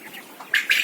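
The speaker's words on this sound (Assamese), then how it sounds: "coil বাৰ্ডৰ farm" Quail calling in a poultry farm, a couple of short, bright squawks close by, the second louder and sustained briefly, with no talk.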